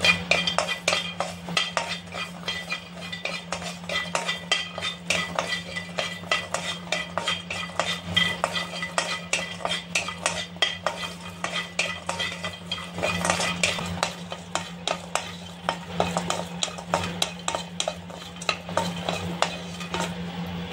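A metal spoon scrapes and clinks against a pan while lightly fried garlic is moved onto a plate, a steady run of close scraping and clattering with a faint sizzle beneath and no talk.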